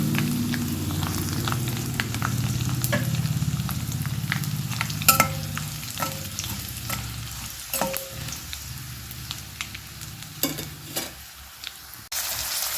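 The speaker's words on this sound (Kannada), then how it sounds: "ಸಾಸಿವೆ ಸಿಡಿತಾ ಇದೆ." Mustard seeds, curry leaves, urad dal and chillies fry in hot oil, giving a steady close sizzle with scattered sharp pops and crackles throughout, alone with no talk.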